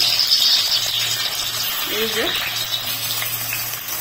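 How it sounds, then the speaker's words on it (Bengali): Paneer pieces dropped into hot oil sizzle and fry steadily, a close, continuous crackling hiss with faint kitchen handling noise underneath. "এবার পনিরগুলোকে এইভাবে তেলের মধ্যে ছেড়ে দেওয়া হচ্ছে"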